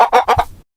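Rooster clucking in a quick run of three or four short, close calls, then silence.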